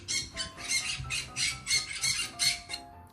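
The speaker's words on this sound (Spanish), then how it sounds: "Es un ave verde." A green bird calling in a run of about eight quick, rough squawks at a steady rhythm, close and fairly faint, heard alone.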